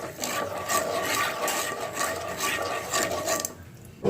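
A spoon stirring spice paste in hot mustard oil, a continuous close scraping and rubbing against the pan that stops abruptly near the end.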